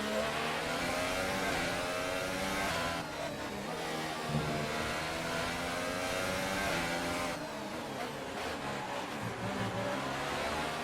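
Race cars in F1 2018 on PS4, career mode at Australia, roar past after a green flag restart, several engines revving and whining at high pitch, continuous and loud with no talking.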